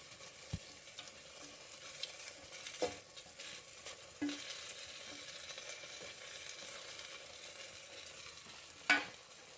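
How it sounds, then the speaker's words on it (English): Lobster juices poured into a pan of sizzling thermidor sauce, giving a faint, steady frying hiss with a few soft clinks and taps of a utensil scattered through. "Next, add the juices that ran out of the lobster when you were cutting it up."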